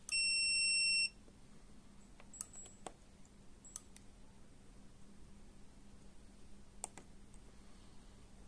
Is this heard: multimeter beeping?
yes